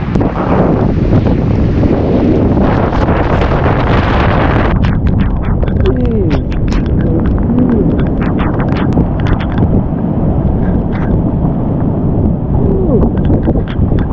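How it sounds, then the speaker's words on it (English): Strong coastal wind buffets the microphone in a loud, continuous roar on a rainy trail along the coast of Olympic National Park, with gusty rumble and no pauses throughout. "There's some wind too"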